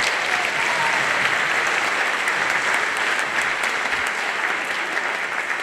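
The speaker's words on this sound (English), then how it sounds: "Please give these wonderful students a round of applause" A school auditorium audience at a middle school spring band concert applauds the students, dense sustained clapping filling the room evenly for several seconds without a break.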